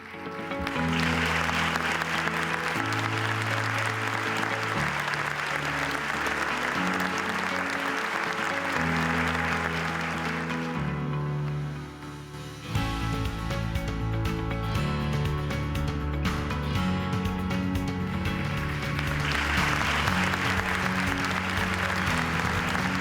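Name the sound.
audience applause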